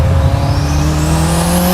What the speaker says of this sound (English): an angry, mechanical symphony that goes from deep burble to violent whoosh as the turbo hits